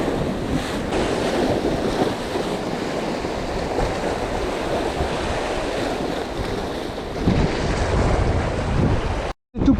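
Strong wind buffets the microphone at the seashore during a fishing outing, with surf rolling underneath in a steady broadband roar that holds for nearly ten seconds, drops out briefly near the end, then returns.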